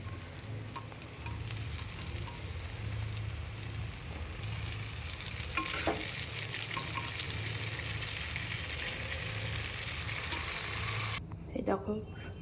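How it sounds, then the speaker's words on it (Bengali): Tarka dal, the cooked lentils for a tadka, is poured into a pan of sizzling spice masala fried until the oil separates. A steady loud sizzle and frying hiss continues with stirring and a low pan hum, and the sizzle drops sharply near the end. "এরপর আমি দিয়ে দেবো তড়কার ডাল।"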